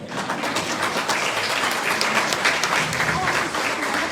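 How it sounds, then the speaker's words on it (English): Loud, dense round of applause from a city audience for the mayor at a State of the City address, continuous close clapping filling the whole stretch with faint crowd noise and a voice underneath. "you got to give a big round of applause to your mayor"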